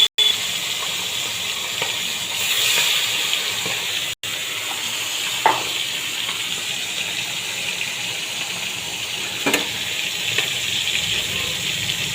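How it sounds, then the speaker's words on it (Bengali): Pabda fish frying in hot oil, a steady close sizzle that runs the whole time with a few brief sharper spits and crackles, no talking. "তো মাছটা ভাজা হতে থাক"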